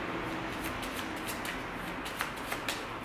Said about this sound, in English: okay, guys, real shuffle.